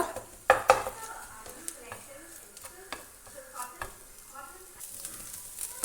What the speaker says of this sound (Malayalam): ഒരു ഗോൾഡൻ ബ്രൗൺ നിറമാകുന്നത് വരെ ഒന്ന് ഫ്രൈ ചെയ്ത് കൊടുക്കണം